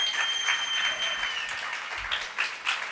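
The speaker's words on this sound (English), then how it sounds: "Can we have another round of applause for Olu and Dr." Audience applause at a music-industry panel on mental health, a steady wash of clapping from a crowd that holds for about three seconds without fading out.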